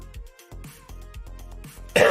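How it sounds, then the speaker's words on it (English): A run of short, harsh coughs and throat clearing from one person close to the mic during a Minecraft livestream, repeated in quick bursts, ending in a louder breathy cough. "Now I'm coughing."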